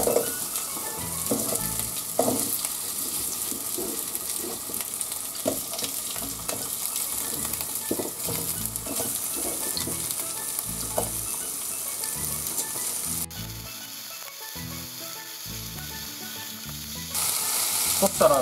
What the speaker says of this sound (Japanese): 鍋の油が温まってきましたら野菜を入れていきたいと思います。